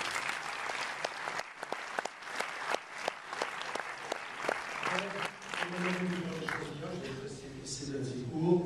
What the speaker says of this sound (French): applaudissez-les également